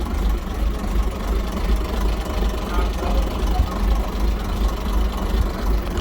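A vintage open-top bus engine idles at a Scottish bus museum, a steady low rumbling throb with a slightly uneven, knocking pulse throughout.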